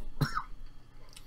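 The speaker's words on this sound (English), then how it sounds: "I'm starting to cough" A single short cough from one person, close and fairly loud, followed by quiet room tone with a faint trailing breath.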